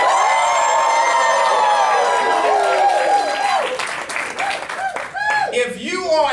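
An audience at a network marketing training event in Houston claps and cheers loudly, a dense wash of applause and whoops that thins toward the end, with voices shouting over it.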